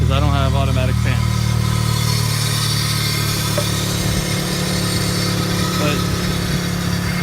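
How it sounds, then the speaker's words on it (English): Car engine idling steadily while warming up during cooling system bleeding, a loud, constant low hum held throughout, with a brief spoken word near the start. "And then you're gonna start up the car."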